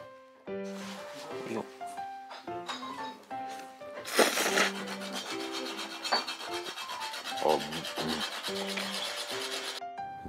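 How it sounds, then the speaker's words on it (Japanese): Rock salt grated at a dining table over soba, a steady raspy rubbing beneath music and voices. "卓上にございます岩塩を使って食べるんですけれども、めっちゃ削る顔必死だね"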